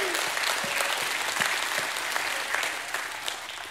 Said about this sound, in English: Can somebody give God a hand clap and a shout of praise?